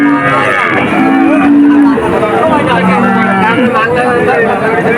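Calves moo repeatedly at a busy cattle market, long drawn-out lowing calls rising above a constant crowd babble and nearby talk.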